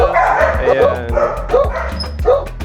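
A golden retriever barks with repeated yips and woofs in close, loud bursts, mixed with people talking nearby.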